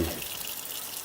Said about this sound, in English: faucet sprayer thing,